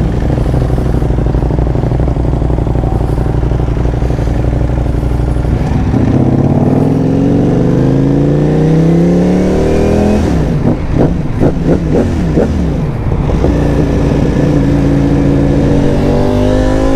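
A Ducati Panigale V4 motorcycle engine revs loud and close, climbing repeatedly through rising pitch sweeps with a sharp burst of quick throttle blips partway through, no voices over it.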